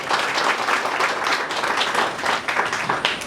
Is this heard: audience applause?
yes